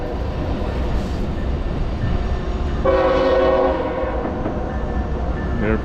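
A coal train passes near a waterfall trail in Ohiopyle State Park, Pennsylvania, its horn sounding clearly mid-clip over a steady rumble of wheels and rail noise, with outdoor ambience throughout.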